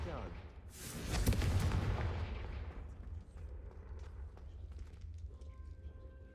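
A Confringo fire spell in Hogwarts Legacy bursts against candelabras in a loud crackling blast that swells and fades over a few seconds, with lighter impacts and game sounds trailing after.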